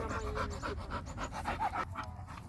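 A bull terrier pants rapidly and steadily close by while playing with another dog, with quick, breathy rhythmic puffs and no talking.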